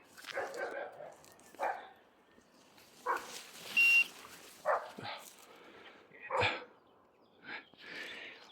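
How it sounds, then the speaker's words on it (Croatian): A tricolour hunting hound in training on wild boar bays in separate bursts, some distant and some closer, with quiet gaps between them and a voice speaking briefly. "slušajte kako ovo predno laje"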